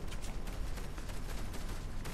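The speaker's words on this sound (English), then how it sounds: "I just hear gunfire" Distant gunfire crackles faintly in a Fortnite match, a dense scatter of shots rattling continuously at low level with no voices.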